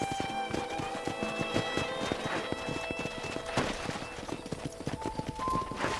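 Steady clip-clop of horse hooves in the video game Red Dead Redemption with a brief whinny, continuous and fairly close, over a faint musical background.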